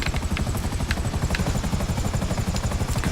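Helicopter in GTA 5 hovers in to land, its rotor chopping in a fast steady pulse with a constant engine whine, close and loud throughout, no talking.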